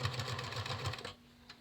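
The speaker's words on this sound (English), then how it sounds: "I'm going to set my machine to a pretty wide zigzag" A home sewing machine stitching a wide zigzag seam on a fabric face mask, with a fast, steady mechanical chatter that stops after about a second, leaving quiet room tone.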